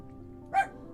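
A dog gives a single short, moderately loud bark inside the video game Life is Strange: Reunion, heard briefly over a quiet, steady background tone.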